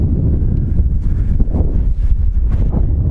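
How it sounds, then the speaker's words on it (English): Wind buffets the microphone on a high railroad footbridge, a loud, continuous low rumbling gust with uneven surges and no talking. "Ooh, a little windy up here."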